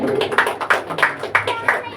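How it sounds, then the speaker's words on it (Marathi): An audience at a medical camp event claps in a loose rhythm, about six distinct clap bursts over two seconds, with voices murmuring underneath. "जोरदार टाळ्या होऊन जाऊ दे."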